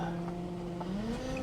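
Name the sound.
1998 Pontiac Grand Prix GT setting off on the road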